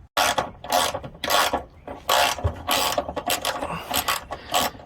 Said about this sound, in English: Alright, let's take out the bolts.